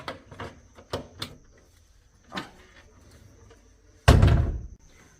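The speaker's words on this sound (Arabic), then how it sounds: "طبعا فتحنا الضرفه قدام حضراتكم اهي، بتقفل وتفتح بكل سهوله" A wooden cabinet door fitted with a lock is unlatched and swung open: a few light clicks and taps from the lock, then one loud close thunk of the door near the end, with no talk.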